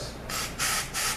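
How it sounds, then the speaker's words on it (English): Air hisses in three short, sharp bursts from a blow-off valve while a 6T70 Gen2 automatic transmission is torn down, each puff loud and close. "Here's a blow-off valve. You can hear that."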